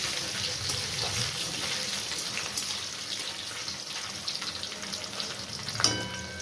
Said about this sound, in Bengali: নারকেলটি ভাজা ভাজা হলে